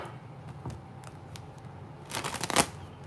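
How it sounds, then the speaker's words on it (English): A deck of reading cards is shuffled close up, with a few soft riffles early on and then a brisk, louder burst of card flicking near the end. "I'm going to shuffle a little bit more."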